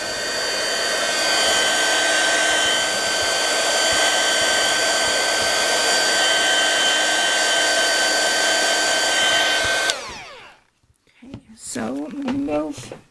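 A hair dryer blows steadily on fabric for a fabric postcard, a loud continuous whir with a high whine for about ten seconds, then cuts off, followed by brief soft talk and movement.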